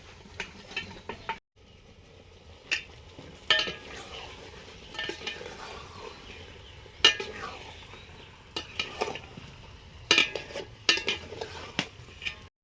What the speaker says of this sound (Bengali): সেদ্ধ করা এঁচোড় আলু দিয়ে দিচ্ছি।